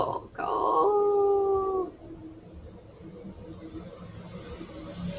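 A dog howls in long, wavering, tonal notes for under two seconds, loud and close, followed by quieter background noise; a voice briefly murmurs over the start.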